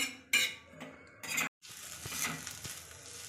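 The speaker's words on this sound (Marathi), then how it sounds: "कांद्याला आपल्याला फ्राय करून घ्यायचं आहे गोल्डन कलर येईपर्यंत" Onions frying in a pan until golden, with steady sizzling broken by clinking stirs of a utensil against the pan, close and moderately loud.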